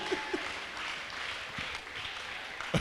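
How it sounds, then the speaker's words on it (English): Congregation clapping at a church prophetic service, a muffled, steady patter of many hands at moderate distance, with a few sharper knocks breaking through. "Clap for Jesus for that"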